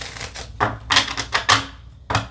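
A deck of cards being shuffled, quick papery riffling bursts in uneven spurts, close and fairly loud.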